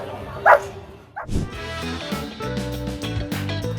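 A small puppy and police canine officers barking at each other, with sharp high yips and deeper barks coming in close, loud bursts over a busy background.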